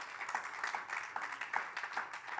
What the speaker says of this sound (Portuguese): dê uma salva de palmas ao teu Senhor